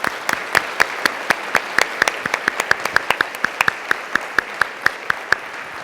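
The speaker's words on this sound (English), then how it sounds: "So again, I'd like to give a round of applause to Doreen." Sparse, rhythmic applause from a conference plenary audience, a handful of distinct claps spaced evenly across the room, moderately loud with no talk over them.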